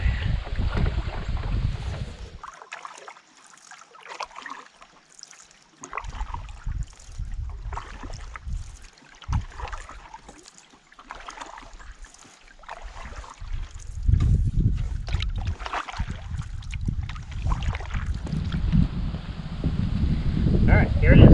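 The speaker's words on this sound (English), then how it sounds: "Let's get to paddling." Canoe paddled across a lake in the Boundary Waters wilderness, with soft paddle strokes and water splashes under gusting wind noise, while a person speaks at times.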